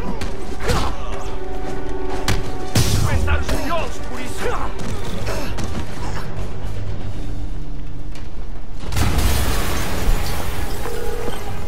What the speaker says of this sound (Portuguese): Uma explosão!